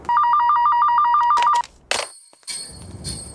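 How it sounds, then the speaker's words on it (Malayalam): A telephone rings in a film scene with loud, close, rapid electronic trills for about a second and a half, then stops and gives way to clatter and room noise. "ഫോൺ എടുക്കടി"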